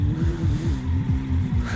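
A truck in the My Summer Car game being shoved around, its engine note repeatedly rising and falling in quick rhythmic swoops, steady and close.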